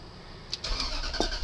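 A 2002-2005 Range Rover L322 Vogue engine cranks and catches in a brief close start, rising from quiet into a rumbling idle.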